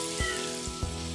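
Curry leaves drop into hot oil with ginger, garlic and dried chillies while making gooseberry pickle, giving a steady close sizzle with a couple of soft stirring knocks.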